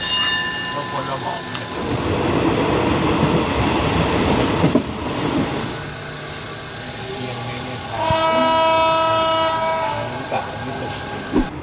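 A third-class passenger train to the River Kwai in Thailand rumbles along with steady rail noise, tonal whines and squeals rising and fading, and a brief horn-like tone near the end; no one speaks.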